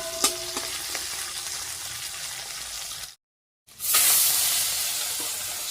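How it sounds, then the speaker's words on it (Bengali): Food frying in a pan with a steady sizzle and occasional stirring, broken by a brief silent gap before the sizzling returns louder and hissing; no one talks. "অল্প অল্প করেই ভাজা করছি।"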